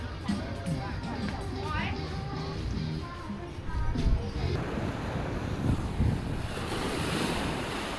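Ocean surf washes onto a beach in Pattaya, Thailand, as a steady rushing roar with wind buffeting the microphone, and voices are heard faintly beneath it.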